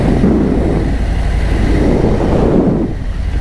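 Steady, loud engine drone from a Harley-Davidson Road King Special motorcycle cruising through rainforest, heard from on board with continuous wind and road rumble and no break in the roar.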